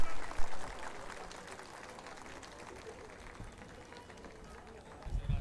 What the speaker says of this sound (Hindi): जोरदार तालियों के साथ स्वागत नहीं करेंगे राष्ट्रीय अध्यक्ष जी का?